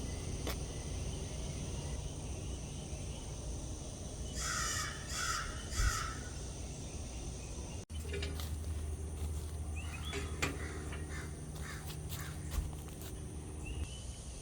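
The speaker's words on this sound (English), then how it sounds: "we have a group where one of them has a really unique crow, so we know it's our group of crows" A group of crows caws in short repeated bursts at moderate distance in an open meadow, with crickets and insects buzzing faintly throughout and occasional footsteps.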